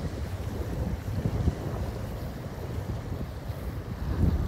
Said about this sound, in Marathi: भरपूर वारा आहे, कदाचित तुम्हाला थोडासा डिस्टर्बन्स होईल